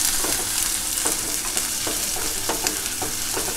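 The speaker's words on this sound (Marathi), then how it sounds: "कांदा जरा परतून घेऊया आपण रंग बदलेपर्यंत." Onion sautéing in a pan of oil for a spring onion curry, a loud, steady sizzle with regular spoon strokes scraping through it, close and without voices.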